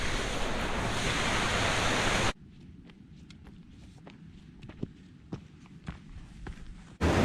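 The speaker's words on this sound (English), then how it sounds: "I hope you can hear me over the noise of Cove Beck." Cove Beck, a rushing stream fed from Goat's Water on the Coniston fells, roars loudly and steadily for a couple of seconds, then cuts away to quieter outdoor noise with scattered footsteps before the rushing water returns.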